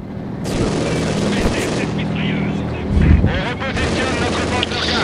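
An MG-42 machine gun turret in Company of Heroes 2 fires dense, sustained bursts amid loud battle noise, with a heavier boom near the middle and voices talking over it.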